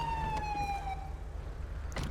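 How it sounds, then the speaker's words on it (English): A police car siren from the GTA V LSPDFR game sweeps in a clear, crisp wail, sliding downward in pitch over a low rumbling engine idle, fairly quiet overall, with a brief knock near the end. "This siren is great and all. I love it. It's nice and crisp and loud and all that."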